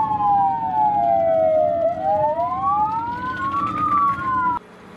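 Wailing fire engine siren sweeping up and down in pitch, loud and close, as firefighters head out to a small supermarket fire beside dense residential housing; the siren cuts off abruptly near the end.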